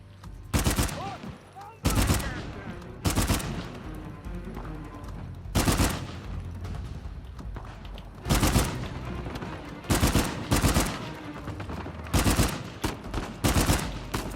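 Bursts of gunfire in Uncharted 4, with repeated loud volleys of automatic and single shots spaced a second or two apart, close and dominant, and some voices talking between them.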